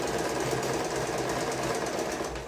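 A sewing machine runs a continuous stitch along a dress seam, its rapid needle chatter steady and loud throughout, close up with no voices.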